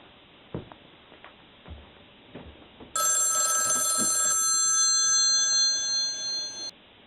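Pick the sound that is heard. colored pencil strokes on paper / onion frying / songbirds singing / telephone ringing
telephone ringing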